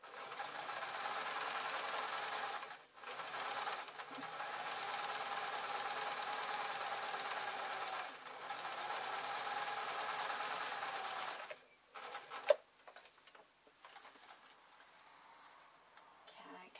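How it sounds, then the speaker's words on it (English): A sewing machine runs a zigzag stitch around the edge of a piece of cloth, whirring steadily and fast for about eleven seconds with a few brief pauses, then stopping and leaving quiet handling noises. "if you have a zigzag on your machine, is to run around the edge of the cloth."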